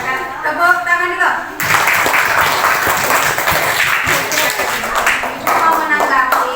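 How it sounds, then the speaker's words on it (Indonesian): A classroom group breaks into loud, close applause that fills the room for several seconds, with a voice talking before it starts and over it near the end. "jadi silakan tepuk tangan dulu"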